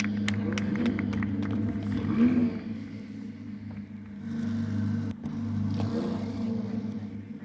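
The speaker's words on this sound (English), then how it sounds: "So the cars have started then and the engines are roaring" Ferrari 488 Challenge race car engines rumble on a track at Road Atlanta after the start, a layered low roar from several cars that rises and dips, with a few sharp clicks early on and no voices.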